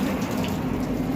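Steady stream of pump-fed water rinsing an air conditioning unit during servicing, a continuous close splashing rush with no pressure washer and no talking.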